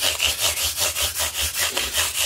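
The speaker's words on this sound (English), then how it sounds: "They're even coming up nicer just with a little 3000 grit sandpaper polish." Fine 3000 grit sandpaper rubs back and forth over the frets of a 2019 Squier Telecaster, a close, even rasping rhythm of about eight strokes.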